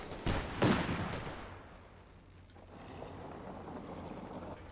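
Bundle grenades explode in a video game as two quick, close blasts in rapid succession, followed by a rumbling decay that fades into low background noise.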